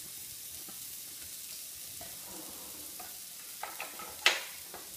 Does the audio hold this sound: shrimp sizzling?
yes